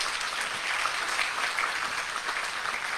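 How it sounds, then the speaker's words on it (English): A graduation crowd for a guide dog class claps steadily for the puppy raisers, a dense, even wash of applause that holds for the whole stretch. "So a big round of applause for the puppy raisers here."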